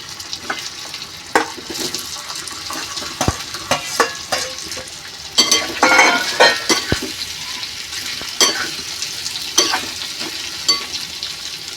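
Boiled potatoes are stirred in a frying pan, a continuous crackling sizzle punctuated by repeated sharp spatula scrapes and clinks against the metal, loudest midway through.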